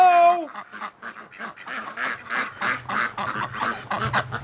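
Breeding ducks in a yard before a rainstorm give a brief honk and then chatter in a soft, continuous run of quacks and murmurs at moderate distance.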